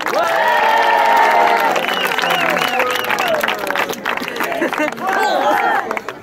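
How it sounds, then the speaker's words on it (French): A church congregation at the Sainte-Anne-la-Palud pardon applauds together, a loud, dense wash of clapping with cheers and voices mixed in, sustained throughout and easing slightly before swelling again at the end. "On peut s'applaudir."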